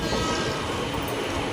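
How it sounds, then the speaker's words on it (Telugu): The Chennai Central to Hubballi express, running slowly over track under repair near Arakkonam, gives off a steady close rumble from inside the coach, with a faint high tone on top. "చాలా స్లోగా అయితే వెళ్తుంది మన ట్రైన్."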